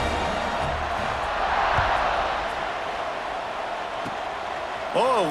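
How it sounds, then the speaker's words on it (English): A stadium crowd in the EA Sports College Football 26 video game roars before kickoff as a broad, steady wash of noise, with a commentator talking over it. "this crowd now ready to get behind them"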